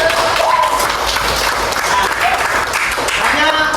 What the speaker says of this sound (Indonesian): Hari ini kalian hebat, tepuk tangan dulu buat kalian.